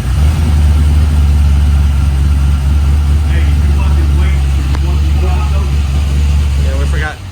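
Turbocharged car with a full exhaust system and nitrous setup idling steadily nearby, a deep constant low engine drone throughout with some voices talking over it before it cuts off at the end.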